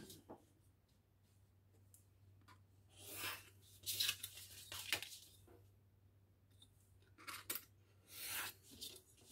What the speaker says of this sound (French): je vais couper un tout petit peu